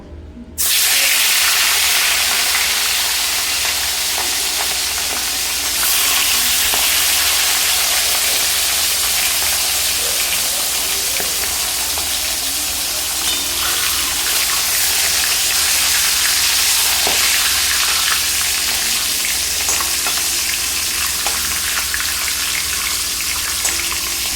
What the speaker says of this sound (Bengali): তেল ভালোভাবে গরম হয়ে গেছে এবার আমি মাছের মাথাগুলো একদম কড়া করে ভেজে তুলে নেব